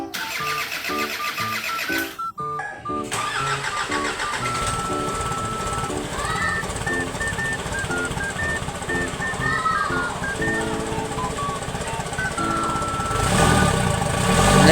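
An Isuzu 4HF1 diesel truck engine cranks briefly, catches and settles into a steady, loud idle close by, with a rising roar near the end.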